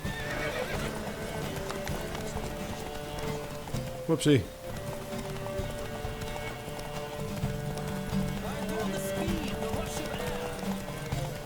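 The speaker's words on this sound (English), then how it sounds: "Well, it's a horse race." Horses gallop in a race in The Witcher 3, rapid pounding hoofbeats running continuously with a loud whinny partway through, under game music, while someone talks briefly.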